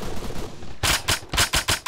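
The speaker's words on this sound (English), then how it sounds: "I'm gonna pepper that wall with fucking bullets" Automatic rifle fire in ARMA 3 peppers a wall, with a quiet lead-in followed by a rapid burst of about six loud, close shots in uneven succession.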